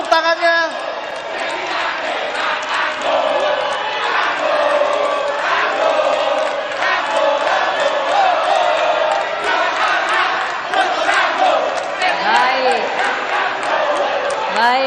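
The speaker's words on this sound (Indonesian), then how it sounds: "Semua hadirin yang hadir di sini di Marina Convention Center, boleh tepuk tangannya" An audience at the Central Java 2024 regional election debate in Marina Convention Center roars with cheering, whoops and shouted chants, a loud, sustained crowd noise rising and falling throughout.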